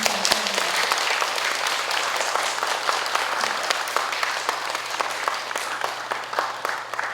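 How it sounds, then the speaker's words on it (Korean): Welcoming applause for a head monk at a university faculty Buddhist service, a dense, steady crowd of clapping sustained through the whole stretch at even loudness, with no voices over it. "오늘 우리 큰 스님에게 큰 박수로 기쁜 마음으로 환영의 박수를 치주셨으면 정말 감사하겠습니다."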